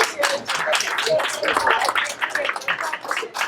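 Applause at a general monthly meeting: steady close clapping from a small group of hands, dense and even throughout, with a few voices mixed in underneath.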